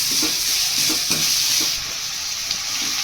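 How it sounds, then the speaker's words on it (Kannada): Onion and carrot frying in oil for methi-leaf upma, a steady close sizzle with soft scraping stirs of the spoon at intervals and no talk. "ಕ್ಯಾರೆಟ್ನ ಬದ್ದು ಇಟ್ಕೊಂಡಿದ್ದೀನಿ ಅದು ಕೂಡ ಫ್ರೈ ಮಾಡ್ಕೊತಾ ಇದ್ದೀನಿ"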